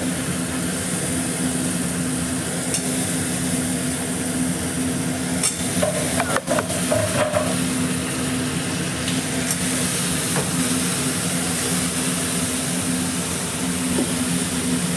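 Eggplant pieces fry and sizzle in a pan with cumin, chilli and peanut powder, giving a steady, fairly loud crackling hiss with occasional stirring scrapes and a low background hum, with no talking.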